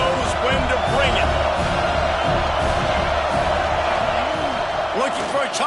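Stadium crowd at a college football game, Kentucky versus Notre Dame, roaring steadily as the offense reaches the red zone, a dense sustained wash of cheering with scattered shouts, heard under a play-by-play announcer's voice.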